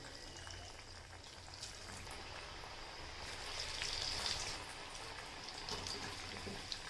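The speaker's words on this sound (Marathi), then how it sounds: "आता आपण एक एक वडी ह्यामध्ये सोडून तळून घेऊयात" Taro leaf vadi, already steamed, frying in hot oil, a steady soft sizzle and crackle with a brief louder bubbling burst midway, continuous and close.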